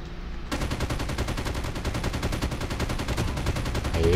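Rapid, continuous automatic gunfire in the video game Call of Duty Mobile, dense bursts of shots rattling on for several seconds after a brief quiet start.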